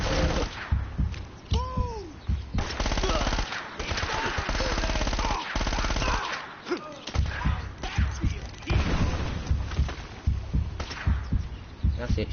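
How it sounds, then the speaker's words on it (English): Rapid bursts of Wes pistol fire in Uncharted: Drake's Fortune on crushing difficulty, loud and close, with repeated cracking shots, brief pauses, and background game ambience and effects throughout. "That's it, shooting with your Wes."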